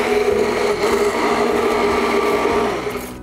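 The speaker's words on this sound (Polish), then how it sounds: "Trzeba to teraz wszystko do kupy zblendować" A blender mixing a salad dressing whirs steadily and loudly for a few seconds, a continuous motor drone with a grinding texture, easing off slightly at the end.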